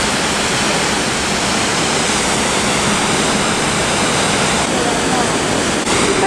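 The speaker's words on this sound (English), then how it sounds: "I spy a waterfall." A waterfall in Scotland sends up a steady, loud broadband roar of rushing water, unbroken and close for the whole stretch.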